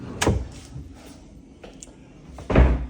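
Drawers in a cruise ship Star Class swim-up suite sliding open and shut: a few close thumps and scrapes, the last one louder, with soft handling noises between.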